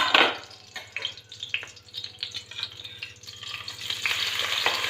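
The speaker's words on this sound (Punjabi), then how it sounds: "ਪੀਸ ਥੋੜੇ ਥੋੜੇ ਕਰਕੇ ਹੀ ਪੀਸ ਮੈਂ ਇਹਨਾਂ ਨੂੰ ਫਰਾਈ ਕਰਾਂਗੀ" Paneer pieces fry in a pan over moderate heat, giving a steady close sizzle with crackles and occasional stirring scrapes, heard alone without talk.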